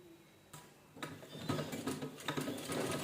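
A sewing machine runs a round seam on a cloth organizer for holding plastic carry bags, its needle mechanism clattering in quick, uneven bursts that grow steadier and louder after a quiet start, with no voices.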